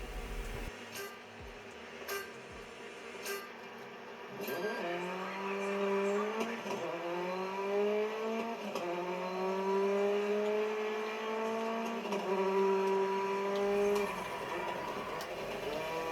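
Race car engine in the Dirt 5 video game rising and falling through gear changes, a steady harmonic drone climbing in pitch with shifts, played loud and continuous with no talking.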